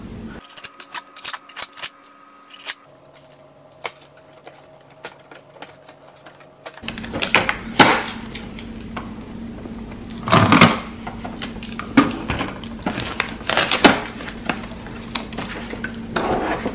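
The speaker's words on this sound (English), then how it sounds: "Let's remove all the tapes from the printer." Repeated sharp rips and crackles of packing tape being pulled off an HP LaserJet Tank MFP printer, mixed with clicks and plastic handling, with quieter pauses between pulls.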